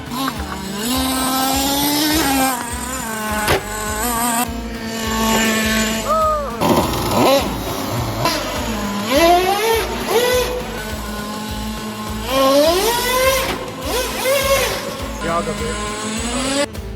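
A nitro RC car engine screaming around a DIY skatepark, rising and falling in pitch as it accelerates, brakes and revs again, close and loud, with people talking over it at times.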